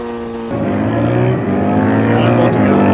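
Kawasaki ZH2 motorcycle on a drag strip, a loud close engine drone that jumps in pitch and steps through gear changes as it accelerates hard.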